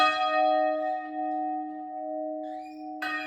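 A church bell at the Our Lady of Snows church in Kallikulam village rings out at six o'clock, a sustained resonant tone that hums and decays, then a fresh strike near the end, loud and close.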